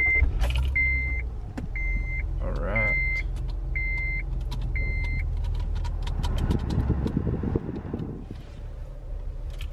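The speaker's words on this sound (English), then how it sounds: "I'm going to get the car started up here." A 2006 Acura TL starts inside the cabin: a series of evenly spaced electronic chime beeps, a brief whirring crank, then a low, steady engine rumble that idles on under faint interior noise.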